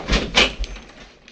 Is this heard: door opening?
yes